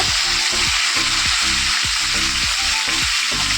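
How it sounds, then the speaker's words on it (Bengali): Chicken pieces fry loudly in hot oil alongside small potatoes, a dense steady sizzle with rhythmic scraping from stirring all through. "তেলের মধ্যে আমি চিকেনগুলো দিয়ে দেবো চিকেনটাকে একটু ভেজে নেব"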